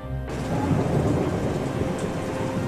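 A heavy thunderstorm with steady, dense rain and a continuous low rumble of thunder fills the scene, loud and unbroken throughout with no voices.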